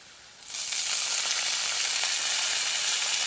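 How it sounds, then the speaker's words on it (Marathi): Sarata greens and browned chopped onion hit a hot pan and start sautéing, breaking into a loud, steady hiss and sizzle that holds to the end. "सराट्याची भाजी टाकून झाल्यानंतर त्याला चांगल्या प्रकारे 4 ते 5 मिनिट परतून घ्यायचं आहे"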